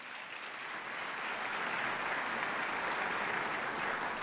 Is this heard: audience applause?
yes